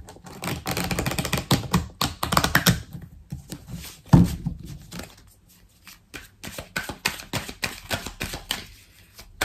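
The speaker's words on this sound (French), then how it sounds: "pendant que je bats l'oracle" Madame Indira Persian tarot oracle cards being shuffled by hand, close and crisp, in irregular bursts of riffling and tapping with brief pauses between them.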